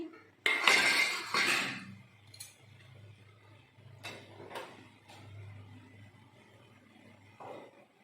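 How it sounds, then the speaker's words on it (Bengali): Hot steel tiffin box of mustard-poppy hilsa bhapa being opened with tongs, giving a couple of loud metallic clanks and scrapes near the start, then quieter clinks and a low hum for the rest. "এটা গরম, সাঁড়াশি দিয়ে খুলে নিচ্ছি।"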